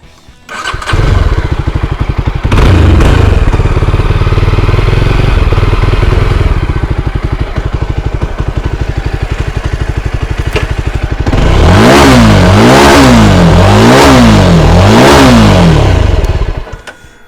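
A Yezdi motorcycle engine starts and idles with a loud, pulsing exhaust beat, then revs up and down repeatedly in rising and falling sweeps, very close and loud, with no talking.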